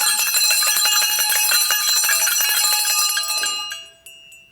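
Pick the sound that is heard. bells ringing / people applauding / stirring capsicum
bells ringing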